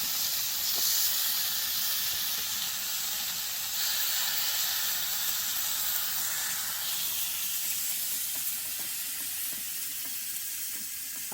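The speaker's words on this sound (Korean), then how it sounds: "지글지글 지글지글 사돌박이에요." Steady, close sizzling of beef brisket on a hot grill at a winter campsite, a continuous hiss with occasional crackles and no talking.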